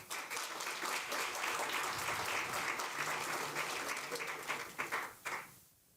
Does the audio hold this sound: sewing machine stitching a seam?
no